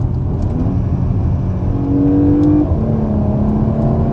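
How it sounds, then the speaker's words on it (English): A Porsche Macan S (95B.2) SUV engine revs steadily, close and loud, its pitch climbing as it accelerates, with a continuous whir and no voices. "Hopefully you can hear the engine. It really does sing for such a big car."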